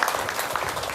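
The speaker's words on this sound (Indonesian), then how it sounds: "Boleh tepuk tangan buat warga Tugu Harjo Kidul." A crowd claps steadily at an Isra Miraj religious gathering in Pedurungan, a dense wash of applause filling the short moment with no pause.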